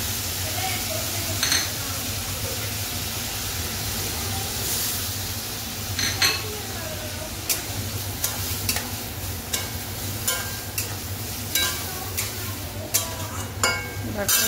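Soybean masala being stirred and fried with a little water in a pan, a continuous soft sizzle broken by repeated scraping and clinking strokes of a spoon, close up, with a voice briefly heard.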